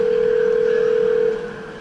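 A phone dial tone from an AI assistant placing a call to a hair salon hums as a loud, steady single pitch that cuts off near the end.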